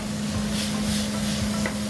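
Tomatoes and jalapeños sauté in a pan for snapper Veracruz at Sol Cocina, a steady close hiss over a constant low hum with faint scraping. No one speaks.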